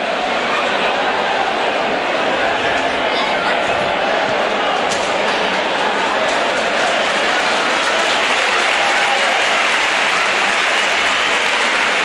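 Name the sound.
crowd applause at futsal match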